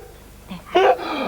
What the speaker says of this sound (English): That was a sneeze, was that you?